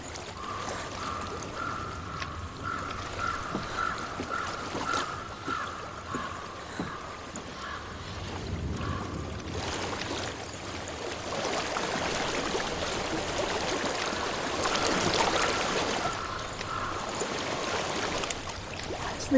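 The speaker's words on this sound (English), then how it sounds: "I hear water. Go to it." A flowing stream in a video game rushes and gurgles steadily, soft at first, then fuller and louder in the second half, with a faint tonal hum underneath.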